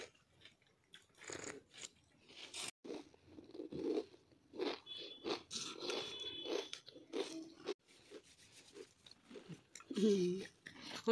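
Several people chewing crunchy puffed rice (muri) with tea at home, loud close crunches and bites repeating throughout under and between continuous talking.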